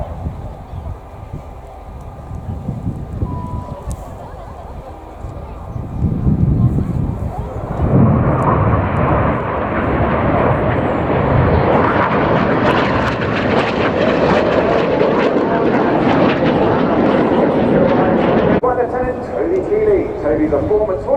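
Red Arrows jet aircraft flying a display pass, with engine noise building into a loud, sustained roar that peaks and then eases as a commentator talks over it.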